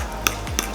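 Lava cake batter of all-purpose flour and powdered sugar being mixed in a bowl, with two sharp utensil taps against the side and a soft scrape between them, close and alone.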